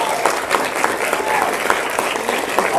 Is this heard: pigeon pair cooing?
no